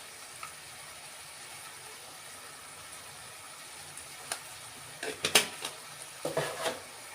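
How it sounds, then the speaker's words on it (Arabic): Cardamom pods and black pepper sauté in oil with a faint, low sizzle, then a few louder clinks and stirring scrapes of a spoon against the pan near the end. "هما كده خلاص قربوا يتشوحوا اهم"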